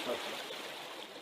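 Rushing mountain river water near a dipper nest in the Mongolian Altai, a faint, steady broadband roar with no breaks, heard from a little distance.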